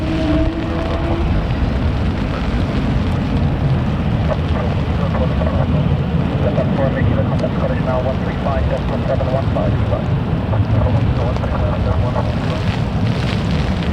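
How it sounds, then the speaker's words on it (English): A Ryanair plane from Dublin at Manchester Airport during Storm Claudia: a steady, loud roar of jet engine noise mixed with wind and rain, constant throughout, with a voice talking over it. "This one is the Ryanair from Dublin."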